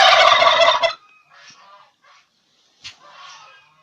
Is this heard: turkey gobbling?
yes